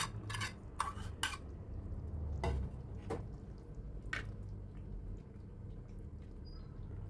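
Torsh tareh, a sour Gilani herb stew, being stirred with fried garlic and egg, giving a few soft clinks and scrapes of a spoon against a pot over a low bubbling simmer.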